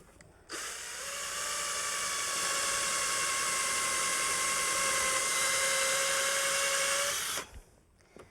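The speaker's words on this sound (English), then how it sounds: "Okay, and pre-drilling." Power drill pre-drilling pilot holes in wooden boards for rustic outdoor furniture, one steady close whine running for about seven seconds with a brief wind-down at the end.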